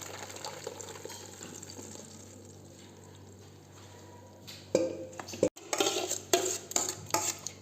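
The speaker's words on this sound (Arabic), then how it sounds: "غادي نصفيه،" Blended watermelon and carrot juice is strained in a kitchen: a quiet stretch of low background hum, then clinking of a utensil against a container and splashing liquid in several close, sharp bursts.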